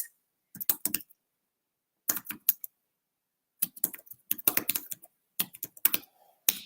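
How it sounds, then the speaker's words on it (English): Bursts of typing on a computer keyboard come in three clusters with pauses between, close and clear, with no talking. "I couldn't type and talk at the same time"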